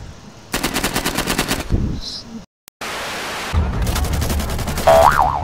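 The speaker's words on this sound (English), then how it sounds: "Whoa, flying machine gun." Rapid machine gun bursts rattle through an Insurgency video game match, a loud rhythmic string of shots, a brief silent gap, then more firing mixed with game effects and players talking.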